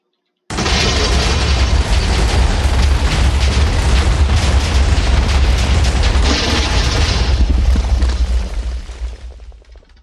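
A warship blowing up in the naval video game Alpha Factions: a loud, continuous roaring explosion rumble that holds steady for several seconds before tapering off.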